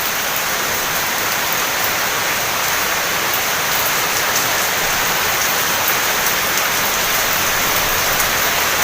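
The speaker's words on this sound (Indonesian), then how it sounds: "Ini lagi hujan deras campur angin." Heavy rain driven by strong wind in southern Bulung, Ponorogo, a dense, loud, unbroken hiss of downpour pounding surfaces with no voices.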